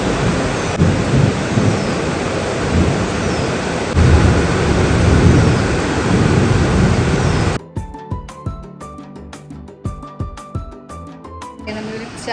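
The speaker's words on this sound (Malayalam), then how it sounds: "ഇവിടെ നല്ല മഴയാണ്" Heavy rain pours down in a steady, loud broadband roar that swells around the middle, with any thunder blended into the wash; after about seven seconds the rain gives way to music with plucked, rhythmic notes.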